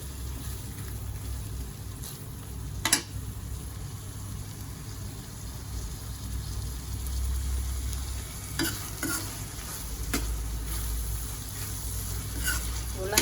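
A pan of beans frying and being stirred, with a steady sizzle and low hum throughout and a few sharp scrapes of the spoon against the pan, close and continuous.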